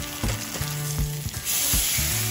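Lemon pepper salmon fillets fry in a pan with a loud, steady sizzle, close by, with a few soft knocks and a low hum underneath, without any talking.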